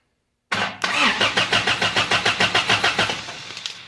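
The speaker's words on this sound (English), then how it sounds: "we'll crank this over, and I'm just going to touch that starter wire to this hot post" A Toyota engine cranks over as a starter wire is touched to a hot post, giving a sudden loud start and then a steady, rhythmic churning of about a dozen even strokes that fades slightly at the end.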